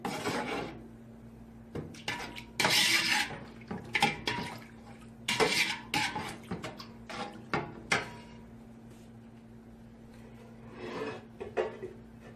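A spoon scrapes and rasps against a pot while yogurt is roasted for chicken white pulao, in bursts of loud close stirring strokes with quieter gaps between them and no talking.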